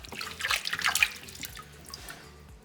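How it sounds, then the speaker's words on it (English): Water runs and drips as a soapstone owl carving is rinsed off, a busy splashing patter that peaks early and then thins to a softer trickle, with no talking. "So I'm going to rinse this off and let this dry"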